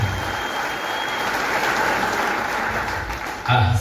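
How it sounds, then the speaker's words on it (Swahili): A church congregation claps for the Reverend, a fairly loud, dense wash of applause that holds steady for a few seconds before a brief shift in sound at the end. "Tupigie Reverend makofi mazuri."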